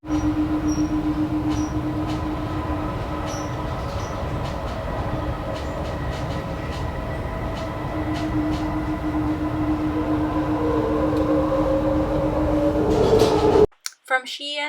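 A passenger train running from Skien to Oslo in Norway, heard from inside: a steady low rumble with a tonal wheel hum and a faint squeal near the end, before the sound cuts off abruptly.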